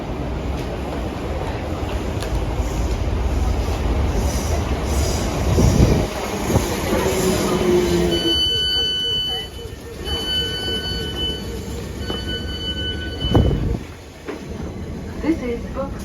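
A Class 455 passenger train runs loudly along the rails near Vauxhall, its steady rolling rumble broken by wheel squeal and clatter, while an onboard announcement chime and tones sound partway through.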